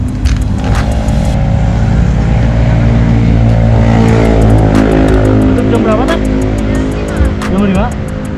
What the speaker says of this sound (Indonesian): kendaraan yang lewat jalur ini cukup ramai